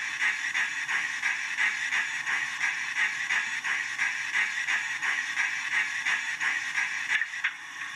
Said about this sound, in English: and then we have the Westinghouse pump.